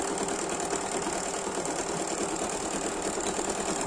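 A Bernina 780 embroidery machine stitches on lightweight 100% linen fabric, a fast, even mechanical whir and rattle running steadily and close without pause.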